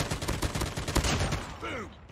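Call of Duty Mobile gunfire, a close, loud burst of rapid shots cracking in quick succession for over a second, then a short gap and a few faint tones as someone talks over it.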